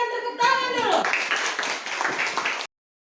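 Classroom of schoolchildren in Ambon, Indonesia clapping together during a lesson: a brief voice, then a dense burst of hand claps lasting about two seconds before cutting off abruptly.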